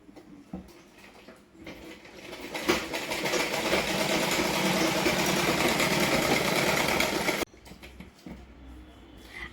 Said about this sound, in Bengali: তো চলো এবার এই কাপড়টাতে তোমাদের সেলাই করে দেখাই।